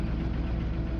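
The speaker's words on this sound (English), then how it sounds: "Mike, go ahead and start your engine" A car engine runs at a steady idle in a test setting, with a dense, even, low rumble that fills the whole moment without a break and with no talk over it.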